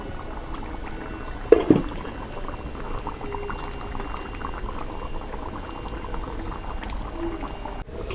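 Beef and green papaya curry boils vigorously after water is added, a dense continuous bubbling close up with a brief splash of pouring near the start.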